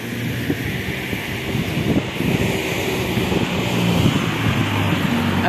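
Wind blows at the Quixeramobim dam spillway, a steady rushing roar with low buffeting rumble across the microphone, continuous and fairly loud throughout.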